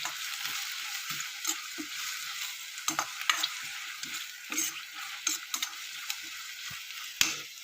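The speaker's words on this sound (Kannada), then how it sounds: "ಈಗ ಟೊಮೆಟೊ ಹಾಕ್ತೀನಿ ಟೊಮೆಟೊ ಹಾಕಿ ಒಂದು ಸ್ವಲ್ಪ ಹೊತ್ತು ಫ್ರೈ ಮಾಡ್ತೀನಿ" Tomato pieces frying in oil in a pan for dal fry, giving a steady crackling sizzle with scattered pops and spoon stirring scrapes throughout, close and alone with no voices.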